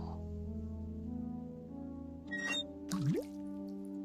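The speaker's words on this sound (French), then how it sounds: "Ça c'est une grosse goutte ça." A big water drop falls with a wet plop and a rising bloop in the video game Day of the Tentacle, a couple of drips sounding over a steady background music bed.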